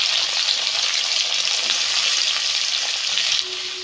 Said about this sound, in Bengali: এখন পেঁয়াজগুলিকে হালকা আছে লাল লাল করে ভেজে নেব